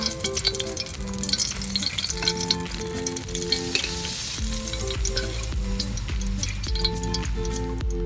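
Fried eggplant pieces are lifted out of hot oil in a kadai, a continuous bright sizzle with scraping and stirring clatter throughout, close and fairly loud, while tonal music plays underneath.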